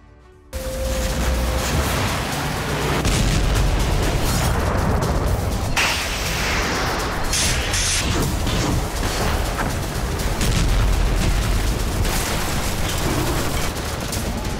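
A dense, continuous barrage of rumbling booms and blasts from wartime bombardment in Russia, one explosion rolling into the next, loud and chaotic from start to finish.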